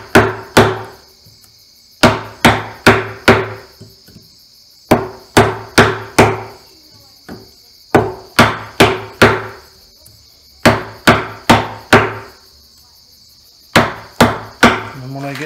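Hand-cut mortises in timber frame beams: a chisel struck repeatedly with a mallet, sharp loud woody knocks in quick clusters of three to five separated by short pauses, with faint insect chirping in the outdoor background.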